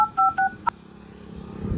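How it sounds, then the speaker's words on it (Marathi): A phone keypad dialing a number gives several short electronic tones in quick succession, close and clear, followed by faint background noise. "हा माझ्या मित्राला फोन करतो."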